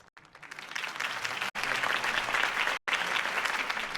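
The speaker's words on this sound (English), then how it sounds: "If only Mr. Wayne, my campaign's largest backer, could have heard that applause" Crowd applause following a political campaign speech in the Batman Telltale video game, a steady dense clapping from a large audience, loud and sustained with brief cut-outs.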